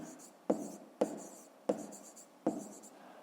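A pen writes numbers on paper during a fifth-grade math exercise: soft scratchy strokes in a quiet room, broken by four sharp taps at roughly even intervals.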